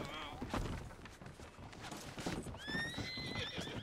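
Horses in the Red Dead Redemption 2 game whinny loudly, with clip-clopping hooves and thuds beneath, while players talk over the in-game sounds.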